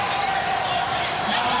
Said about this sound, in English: the crowd from Kenyon-Wanamingo is getting pretty excited because it's down to 14